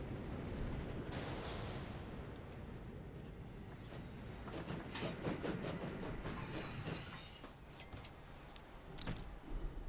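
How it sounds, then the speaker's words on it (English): Passenger train arriving at a port in the Transport Fever 2 video game, a steady rumbling rail roll with clattering wheel noise and a brief high squeal, mixed with surf-like ambient wash, continuous and fairly close. "Here comes the passenger train with the people that are hopefully going to be getting off at the port."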